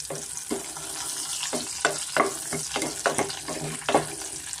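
Cashews and green chillies frying in hot oil for khara rava pongal, a dense close sizzle with intermittent stirring clicks and scrapes throughout, no voices.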